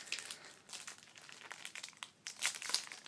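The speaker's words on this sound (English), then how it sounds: "I just have to use the scissors." Crinkly foil wrapper of a 2014 Bowman Chrome baseball card pack being handled and cut open with scissors, a busy close run of crackling rustles that grows louder near the end.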